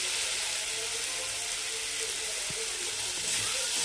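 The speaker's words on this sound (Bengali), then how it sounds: "বেগুনটা দিয়ে একসাথে ভাজা ভাজা করে নিচ্ছি আগে" Eggplant frying together with onion, garlic and chilli in a pan, making a continuous close sizzling hiss with faint crackles and an occasional soft knock, no voices.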